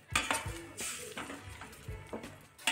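Egg bhurji being stirred in a pan over high flame, with repeated scraping and clinking of a spoon against the metal at an uneven rhythm over a faint sizzle, close and fairly quiet.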